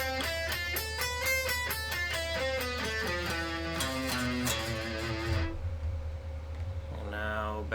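Guitar runs through a Japanese Hirajoshi scale in a steady series of clear picked notes, first ascending then descending, heard fairly quietly over a constant low hum.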